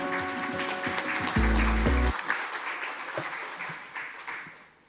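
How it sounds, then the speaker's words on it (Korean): Audience applause at a construction management association's World CM Day ceremony, a moderate spread of clapping under a brief loud tonal hum partway through, then thinning out and fading. "배영휘 회장께 큰 박수 부탁드립니다."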